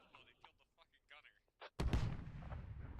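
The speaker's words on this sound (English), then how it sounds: "I think that was the field gun right here that took him out." A field gun firing in the video game Squad, one sudden heavy boom that rolls into a long rumbling tail, following a stretch of quiet, clipped radio-style voice chatter.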